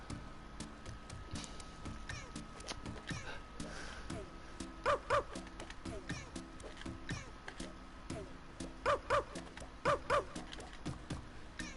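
In the video game Dreams, a goofy cartoon dog gives a few short, clustered barks in two bursts over music and other game sounds, with talking throughout.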